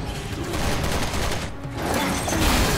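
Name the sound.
shotgun firing in video game Resident Evil 6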